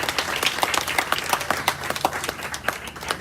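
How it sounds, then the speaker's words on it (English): A town hall audience claps for volunteers: a crowd's applause with distinct individual claps, moderately loud and sustained, with no voices over it. "And I think we can clap for that."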